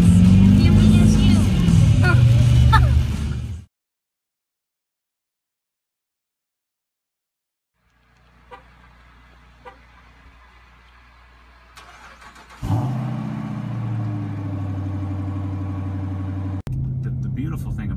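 A Dodge Charger's engine runs in deep snow, loud and steady near the end after a stretch of near silence; someone talks briefly at the start.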